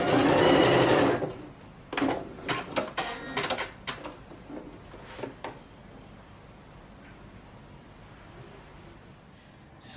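A sewing machine back stitches a seam at the notch of a twisted criss-cross halter neck top, running in a loud, steady burst for about a second. Several short stitching bursts follow, then a quieter stretch.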